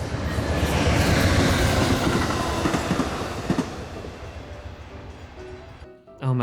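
A freight train rumbles past close by with loud clattering wheels and a steady roar that gradually fades as the cars roll on, ending in near quiet.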